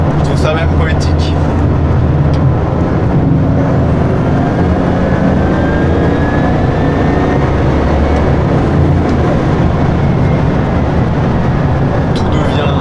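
Bugatti Chiron Super Sport with 1600 hp driving at speed, a loud steady engine and road roar from inside the car, with a rising whine building over the run.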